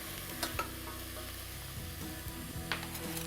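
Chunks of squash sizzle in a hot pot while being stirred, a steady crackling fry with a few soft scraping knocks of the spoon, fairly quiet and with no talking.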